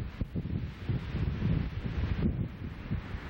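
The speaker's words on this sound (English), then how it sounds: "That's why we're getting a lot of this gusty wind sounds." Gusty wind of about 20 mph buffets the microphone outdoors on Guam, a faint, uneven rushing roar that swells and dips with no voices.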